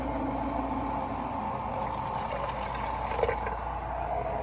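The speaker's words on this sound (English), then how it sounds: "We're going to add some hot water" A steady, soft wash of hot water pouring into a cup, continuous and close, with a faint clink partway through.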